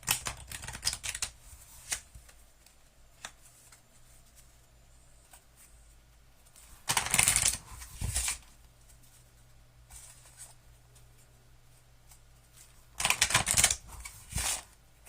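A deck of Dutch Blitz cards riffle-shuffled in a few quick bursts, crisp ruffling flutters separated by pauses with light handling noise between.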